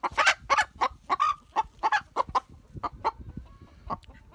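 A hen named Wendy, suffering from scaly leg, squawks and clucks in a rapid run of about a dozen loud, close bursts, fading slightly toward the end.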